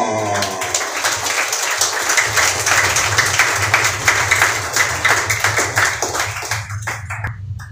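Church congregation clapping during a worship service, dense rhythmic applause sustained for several seconds, close and fairly loud over a low steady hum, tapering near the end.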